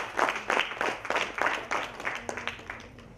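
An audience at a stage event claps to welcome two performers, a run of distinct, rhythmic hand claps that gradually thin out, close and moderately loud.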